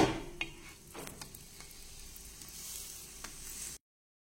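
Thalipeeth made from chakli bhajani roasts in a pan until golden, giving a soft, steady sizzle with a few faint clicks and taps at moderate distance before cutting off abruptly.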